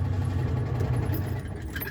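A 1973 Citroen 2CV engine idles steadily after ignition, a continuous low, throbbing putter close by that holds evenly for the whole stretch with no other sounds.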